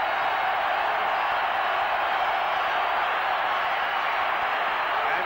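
A dense, steady roar of stadium crowd noise fills an American football game as the Houston Oilers rev up the fans late in regulation against the Seahawks, continuous and broad without distinct voices.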